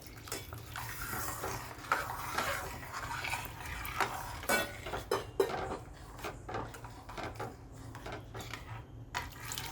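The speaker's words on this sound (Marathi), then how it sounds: "हे गरम पाणी केले ते टाकते मी आता" Hot water poured into a simmering paneer masala gravy in a home kitchen, a steady splashing wash with scattered clinks of a pot and utensils, close and fairly loud, with no voices.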